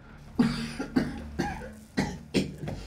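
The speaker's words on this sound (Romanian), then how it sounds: "Deci chiar tușesc." A person coughs in repeated harsh bursts, about five coughs spaced roughly half a second apart, loud and close with no talking.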